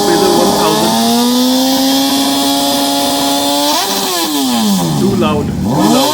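A Yamaha Fazer 1000 superbike revs loud and close at a loudest-bike competition, its engine note holding steady before dropping and surging again in sharp throttle blips.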